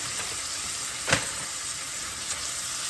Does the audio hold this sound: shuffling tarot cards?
no